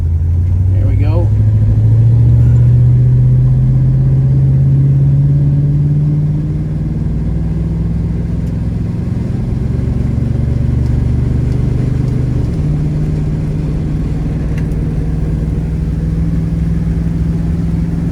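A 1965 Ford Mustang coupe with a 289 A-code V8 runs with a deep, steady low rumble up close, easing slightly after a few seconds and holding a smooth idle drone throughout, with someone talking over it.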